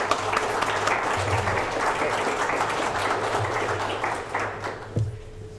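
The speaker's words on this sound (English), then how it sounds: "Let's give Corey a round of applause." An indie game developer meetup audience claps for a presenter, steady moderate applause that gradually thins toward the end.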